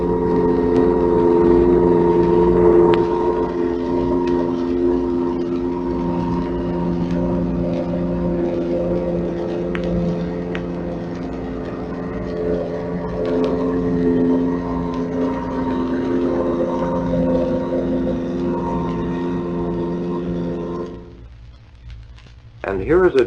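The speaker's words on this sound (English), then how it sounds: "Here is an American Mark 14 turbine torpedo at a speed of 45 knots." An American Mark 14 turbine torpedo running underwater at 45 knots gives a loud, steady droning whir with strong tonal hum, continuous, then cuts off abruptly near the end.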